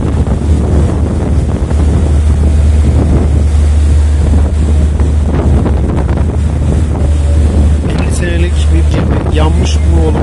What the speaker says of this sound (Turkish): Biraz rüzgarlı.